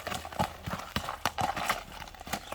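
Running horses' hooves clip-clop in a quick, uneven patter of sharp thuds, fairly close and steady throughout, with faint voices in the background.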